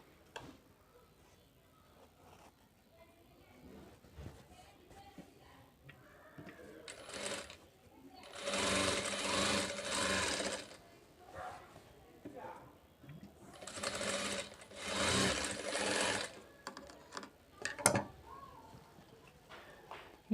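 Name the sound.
sewing machine stitching blouse front part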